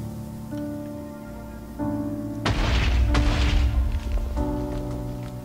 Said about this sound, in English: we'll be showing you the exploding product. The TNT block.